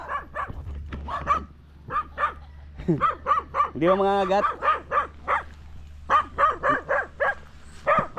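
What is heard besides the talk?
many dogs barking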